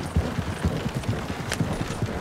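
Horses carrying riders move along at pace, their hooves striking in a quick, repeating clip-clop rhythm that sounds close and fairly loud, with no one speaking.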